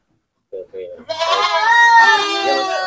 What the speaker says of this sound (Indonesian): ini kambing PE, Mas, yang dinamakan kambing PE